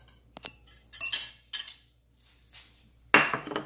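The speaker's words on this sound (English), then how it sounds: "You just add it to the batter and mix it well." Sourdough pancake batter with a flaxseed meal egg substitute is mixed in a bowl. A utensil makes irregular close clinks and scrapes against the bowl, separated by short quiet gaps, with a louder scraping burst at the end.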